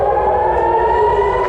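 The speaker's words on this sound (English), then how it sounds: "Sirens wailed throughout south and central Israel as another Houthi missile sent people into bomb shelters." A civil defense air raid siren wails steadily in Israel during a Houthi missile alert, a loud sustained tone with no talk over it.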